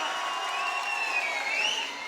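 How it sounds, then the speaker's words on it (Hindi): Applause from the audience at a Ramleela performance, a steady wash of clapping with light crowd noise underneath, held at a constant level for a couple of seconds. "तालियां बजाओ फिर इसी बात पे"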